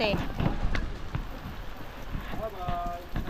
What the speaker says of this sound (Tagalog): inabot tayo ng malakas na ulan